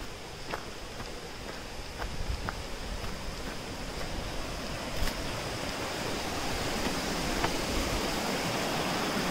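A freshwater stream at Kondura beach in Vengurla, flowing into the sea, makes a steady, fairly soft rushing wash with faint clicks and knocks scattered through it.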